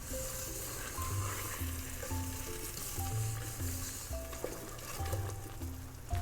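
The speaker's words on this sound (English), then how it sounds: "into a pan on medium heat, I'm going to add my butter and also my brown sugar" Butter and brown sugar warm in a pan over medium heat for saltine cracker toffee, giving a steady close sizzle with faint whisk scraping throughout.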